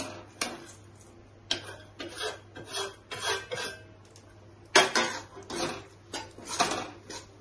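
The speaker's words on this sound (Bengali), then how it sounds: "তাহলে আমি এখন এগুলো দিয়ে দিচ্ছি বেসন।" Gram flour is stirred into melted, browning sugar in a pan for besan halwa, giving repeated scraping and rasping strokes of a spoon against the pan, with a steady low hum underneath and no talking.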